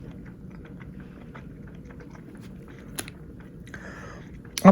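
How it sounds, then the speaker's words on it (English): Food being chewed and bitten up close, a meal of hospital food eaten with a plastic fork, with soft repeated crunchy mouth sounds over a low room hum and a sharper clatter near the end. "It's not tough to chew"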